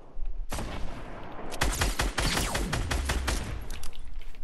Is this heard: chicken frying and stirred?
no